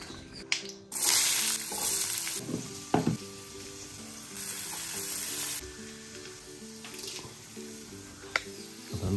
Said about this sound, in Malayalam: പരിപ്പ് കറിക്ക് വെളുത്തുള്ളിയും സവോളയൊക്കെ ഇട്ടു